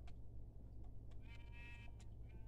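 Sheep in a video game give several faint bleats, scattered across the stretch over a steady low background hum, with no talking.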